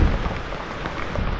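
Steady rain falling outdoors in rural Thailand, a dense, even hiss throughout with a low rumble at the start and no voices.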